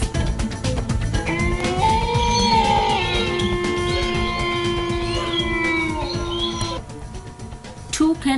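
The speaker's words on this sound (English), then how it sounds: "Wolf." A wolf howls in long, sustained, gliding tones that rise and fall, with several overlapping voices layered over a steady rough background, loud and close, fading out near the end.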